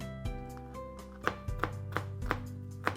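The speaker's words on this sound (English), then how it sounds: "See, that ended up being a big piece, so I had to end up chopping it anyway." Soup ingredients for chicken tortilla soup chopped by hand with a knife on a cutting board, a series of sharp close knife strikes at an uneven steady pace over a low kitchen hum.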